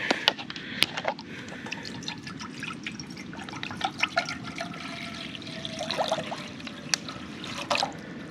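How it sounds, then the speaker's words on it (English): Water trickles and drips at a campsite as it is poured for boiling, with small splashes and clinks over a soft, steady background, close by and fairly quiet, with no voices. "Step 1, we're gonna boil some water."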